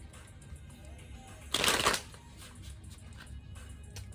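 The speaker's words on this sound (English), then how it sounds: "I'm going to go ahead and begin shuffling" A brief burst of tarot cards being riffled and shuffled, a quick papery flutter lasting about half a second amid quiet room tone.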